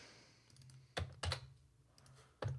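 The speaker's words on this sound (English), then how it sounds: "So A key was pressed." Computer keyboard keys pressed while testing the A key in a DirectX 9 game, a few sharp clacks spaced irregularly over a low steady hum, fairly quiet and close.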